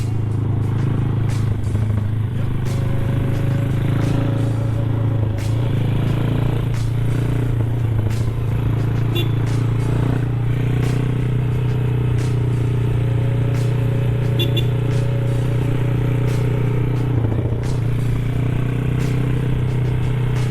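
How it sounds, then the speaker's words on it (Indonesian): A motorcycle engine, a Kawasaki Ninja SS, idles steadily and loudly up close, with a constant low rumble and faint ticking piston clatter running through the whole stretch. "Agak bunyi pistonnya, cuma masih berani lah."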